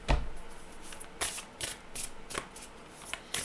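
Oracle cards shuffled by hand in a quiet room, a sharp riffle at the start followed by several softer, irregular bursts of card slaps, close and alone with no talking.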